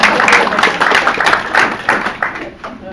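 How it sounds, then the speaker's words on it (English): An audience at a poetry event applauds in a dense, continuous patter of many hands that fades slightly toward the end. "Applause"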